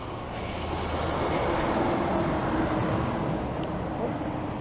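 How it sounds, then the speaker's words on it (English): A GO commuter train rumbling past on an overhead bridge in Toronto's Leslieville area, a broad, steady roar heard from street level during an e-bike ride. "Oh, there goes a GO train overhead."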